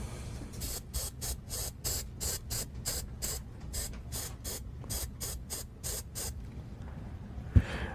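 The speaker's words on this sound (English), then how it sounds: "I'm going to spray it with a little more hairspray." Hairspray hissing from an aerosol can onto a model tree for tropical scenery, in about twenty short, regular bursts across the span, close and fairly loud, with a brief knock near the end.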